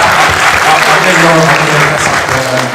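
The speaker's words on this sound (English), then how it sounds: "And round of applause for that gesture." A crowd claps loudly and continuously at a gaming expo panel in Blackpool, the applause close and steady for under three seconds, with some talking underneath.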